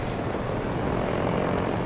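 A helicopter in the video game Battlefield 2042 drones steadily at a distance, a low, even rumbling hum with no voices over it.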